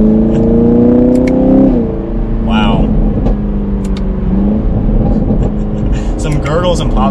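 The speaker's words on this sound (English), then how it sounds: "The exhaust is noticeably a little bit louder" Exhaust of a 2021 Chevrolet Camaro 2SS in track mode, a loud close rumble that revs up and settles into idle, with crackles and pops; a voice exclaims briefly over it.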